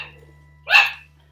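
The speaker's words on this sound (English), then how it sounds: "I got some puppies out playing, so it's going to be a little loud." A single short, sharp bark from a puppy, close by, after a faint earlier yip, otherwise quiet.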